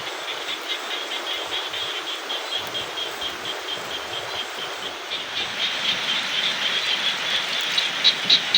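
Steady rain pours down over rice fields with a dense, hissing patter that grows slightly heavier toward the end; no voices.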